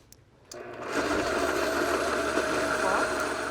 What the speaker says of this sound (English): We're just going to put coconut milk into the blender, some fresh blackberries, and a little bit of simple syrup.